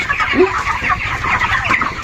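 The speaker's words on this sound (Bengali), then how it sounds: "আজকে 27 দিন বয়সে দেখো সারা ঘরেই মুরগি হাঁটাচলা করছে" Many 27-day-old chickens cluck and chatter together nearby in a poultry house, a busy continuous flock noise with one rising squawk near the start.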